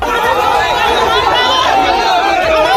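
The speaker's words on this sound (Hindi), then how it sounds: "बहुत सारे लोग शोर करते हुए टीएमसी नेता शाहजहां शेख के घर पहुंच गए" An agitated crowd of villagers in Sandeshkhali, gathered at the house of TMC leader Shahjahan Sheikh, fills the air with dense, continuous shouting and babble, loud and close with no single voice standing out.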